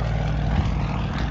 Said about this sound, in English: this particular airplane designed around that incredible M14 engine